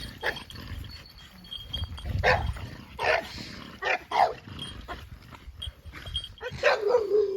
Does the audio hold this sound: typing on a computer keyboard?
no